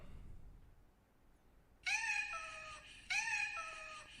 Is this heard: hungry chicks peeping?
no